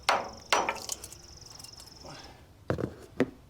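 A hammer strikes a part on a Minneapolis Moline 605 tractor engine, giving sharp metallic blows close by: two quick hits, a pause, then two more spaced impacts, with faint ringing after some.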